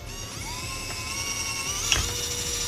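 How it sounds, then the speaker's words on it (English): A power drill bores a hole beside the nut mount while a cheap DIY grow room fan is being built, with a steady whine running continuously at close range and one brief sharper burst partway through. "You use any kind of drill. It doesn't really matter which one."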